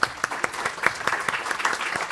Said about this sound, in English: I wanted to give them a round of applause